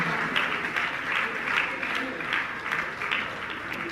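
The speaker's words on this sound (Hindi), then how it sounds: "आपकी तालियां बजती रहना चाहिए।" An audience at a gathering claps steadily and densely, a continuous wash of hands with a faint murmur of voices underneath, moderately loud throughout.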